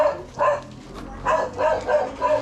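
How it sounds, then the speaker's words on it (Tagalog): A dog barks several times in short bursts, moderately close, with a pause between the first bark and a quicker cluster that follows. "May aso dito ka."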